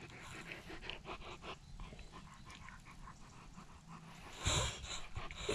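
A big dog pants close by in quick, soft, rhythmic breaths, with a louder rustle near the end.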